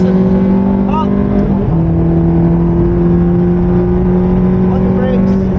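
Ferrari engine held at high revs on a race track, a loud steady droning whine with a brief dip and gear change near the start, heard from inside the car as a voice speaks over it.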